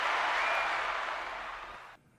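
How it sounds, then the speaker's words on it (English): A short burst of dense clapping from a small group, steady at first then thinning and cutting off abruptly near the end. "Clap it out."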